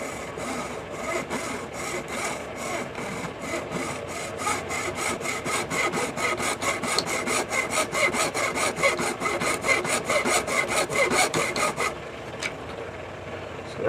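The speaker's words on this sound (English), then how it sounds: "I'm going to take a hacksaw and I'm going to cut it right here." Hacksaw cutting through a gear caddy part, steady rhythmic back-and-forth strokes close up for about twelve seconds, then stopping.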